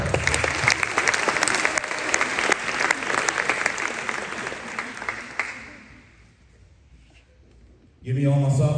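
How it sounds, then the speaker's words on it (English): A crowd at a high school sports awards night applauds the players in a dense, sustained burst of clapping that fades away after about five seconds, and a voice starts speaking at the very end. "Let's give them a big round of applause"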